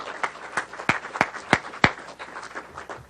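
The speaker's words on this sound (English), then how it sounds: "Let's all give Larry a round of applause." A few people clap sparsely at a community induction ceremony, about eight distinct claps spaced irregularly, fairly faint and close.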